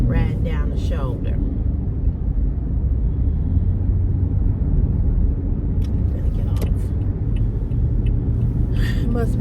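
A big police paddy wagon rolls along the road shoulder, its engine and tire rumble steady and close beside passing traffic, with a person talking over it.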